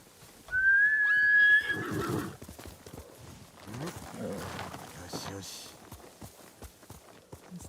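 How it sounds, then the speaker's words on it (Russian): A horse gives one loud, shrill whinny in Ghost of Tsushima, followed by clip-clopping hooves and snorting, with birds cooing softly and people talking underneath. "Ой, а где моя лошадь?"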